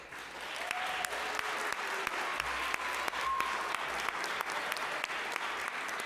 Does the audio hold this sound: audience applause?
yes